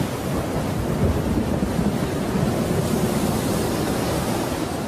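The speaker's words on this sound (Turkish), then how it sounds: "Şiddetli bir rüzgar kurak mevsimi Ruaha'dan kovuyor." A strong dry-season wind sweeps across the Ruaha landscape, a continuous loud roaring rush buffeting the microphone with no pauses.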